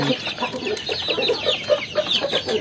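Free-range village chickens cluck in a coop, with repeated short clucks and chatter from several birds at close range, fairly loud and busy.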